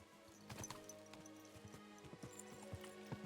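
Horse hooves clip-clop in the video game Kingdom Come Deliverance 2, a quiet, uneven run of hoofbeats over a low humming background.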